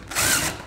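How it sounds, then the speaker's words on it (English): A power drill drives a fine-thread screw into a steel stud, giving a brief, close, high whirring burst that swells and fades in under a second. "all you do is you put your drill here and you kind of like a release"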